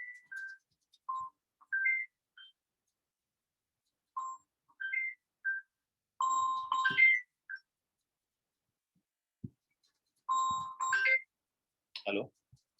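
A mobile phone ringtone plays as a melodic electronic tune in short repeating phrases, loud and close, rising again partway through and cutting off before a brief closing burst.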